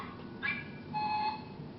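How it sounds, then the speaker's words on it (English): A telephone answering machine or voicemail beep, two short electronic tones in a row, close and clear, with no talking around them. "there's a keyboard shortcut that lets you jump directly to the beep like this"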